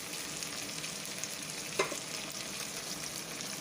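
Onions and tomatoes sautéing in a pan for a pepper curry, with a steady close sizzle and frying hiss and a single sharp scrape or clink of a spoon partway through.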